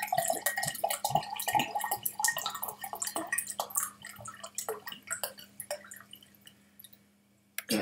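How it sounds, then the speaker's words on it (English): Cold water is poured and splashes in a run of irregular drips and trickles, close and fairly quiet, tapering off toward the end. "that did not make the right sound, but that's because this is water, cold water"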